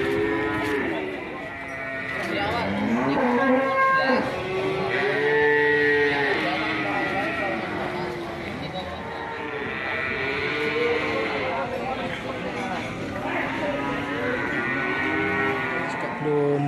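Cattle at an Indonesian livestock market selling Qurban bulls and calves give loud, drawn-out moos one after another, overlapping with bleats from nearby sheep and general crowd chatter throughout.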